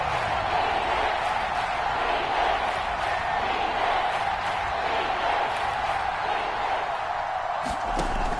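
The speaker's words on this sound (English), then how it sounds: "the crowd getting into it as we come up on a big 3rd down" A stadium crowd in a PS4 football game roars in a steady, dense wash of cheering that swells toward a big third down, continuous and loud with no breaks.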